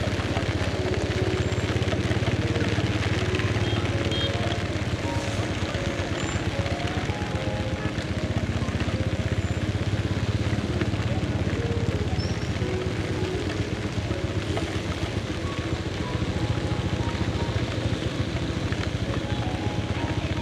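Heavy rain falls at night over a market in Da Lat, Vietnam, as a dense, steady hiss that fills the whole stretch without a break, with no voices over it.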